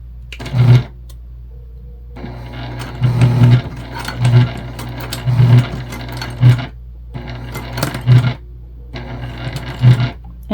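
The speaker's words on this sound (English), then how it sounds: "we're taking our time here because you can hear we're going through some thick fabric, thick material" Sewing machine top stitching slowly through thick fabric on a travel sling bag, a low hum punctuated by repeated heavy thumps of the needle, close and fairly loud, with no talking.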